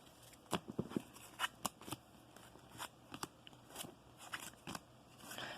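Trading cards from a Blackwing deck being shuffled by hand, a series of close, quiet, irregular riffling snaps and flicks spread across several seconds, with no talking.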